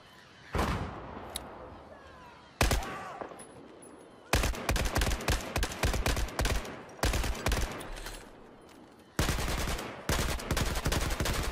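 Gunfire in the Battlefield 4 video game: sharp single shots early, then long rapid bursts of automatic fire in close, loud volleys separated by short gaps.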